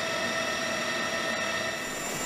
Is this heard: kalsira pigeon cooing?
no